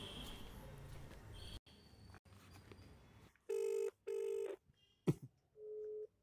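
A mobile phone placing an outgoing call plays a ringback tone: after a stretch of noisy background, two loud steady tone bursts sound close together, followed by a click and a shorter third tone.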